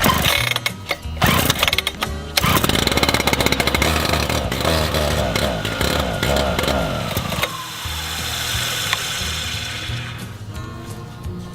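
A Dirt Monkey concrete saw roars close and loud, surging between idle and cutting with gritty grinding and clatter as the blade works into concrete. People talk faintly underneath.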